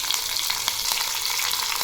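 Green chillies, curry leaves, cumin and mustard seeds fry in hot oil for a dhokla tempering, giving a dense, continuous close-up sizzle with faint crackles.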